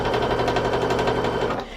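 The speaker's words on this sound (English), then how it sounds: "you're going to stitch it on" A sewing machine runs steadily, stitching quilt sashing onto a block with an eighth-inch seam, its needle chattering in a fast, even rhythm that eases off slightly at the very end.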